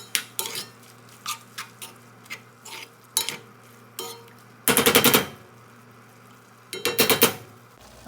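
Ground meat is stirred in a pot with a metal utensil, producing repeated clinks and scrapes against the pan, with two longer bursts of rapid rattling stirring and faint sizzling beneath.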